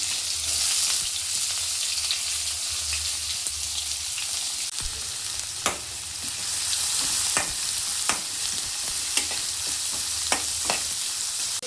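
Garlic and two large chopped onions frying in a pan, a loud continuous close sizzle with occasional sharp spatula scrapes and knocks, no voices.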